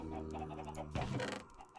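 Minecraft chickens cluck in a crowded in-game egg farm, several short blocky clucks overlapping at a steady moderate level with a tonal game hum under the first half, no talking.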